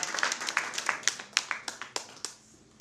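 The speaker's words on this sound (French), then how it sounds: "je vous demande d'applaudir encore une fois nos partenaires" An audience at an inauguration evening for an association applauds its partners, a burst of sharp, fairly close claps that thins out and fades toward the end.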